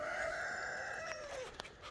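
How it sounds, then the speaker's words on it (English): A teenage cockerel gives a short, faint crow, a hoarse rising and falling call of about a second and a half, with a small click near the end. "He just crowed."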